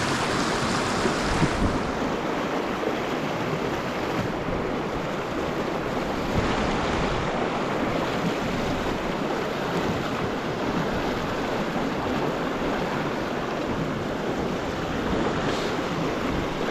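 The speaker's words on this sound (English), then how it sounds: "Oh, here comes the wind, baby" Wind rushes past a trout stream, a steady loud roar of gusts and buffeting over the microphone that swells and eases at times, with flowing water mixed underneath and no talking.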